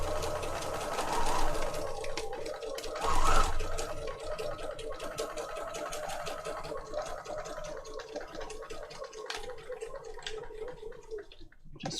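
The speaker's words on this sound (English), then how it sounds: "Regina, I was going to say to you about your sewing machine" A sewing machine whirs steadily for a long stretch, its rapid mechanical stitching rattle continuous with slight swells and a brief pause near the end.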